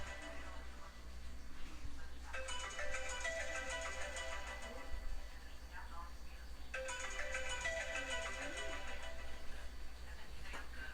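Mobile phone ringtone playing twice in bright repeating melodic bursts, moderately loud against a steady low hum, with the room otherwise quiet and no one speaking.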